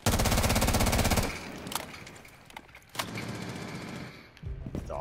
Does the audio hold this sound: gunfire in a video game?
yes